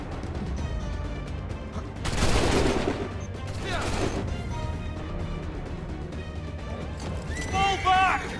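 Musket volley gunfire in Assassin's Creed 3, a dense crackling burst of many shots fired together followed by a second volley, set among shouting soldiers and battle noise.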